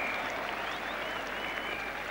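Large cricket crowd at Old Trafford during a 1985 England v Australia Ashes Test, applauding a boundary with steady, dense clapping that stays even and continuous throughout, heard from a distance as a broad wash.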